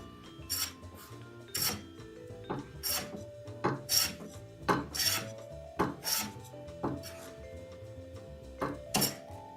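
A hand plane shaves wispy curls from wood, each stroke a short close rasp, about a dozen evenly spaced passes with light metallic clinks between them and no speech.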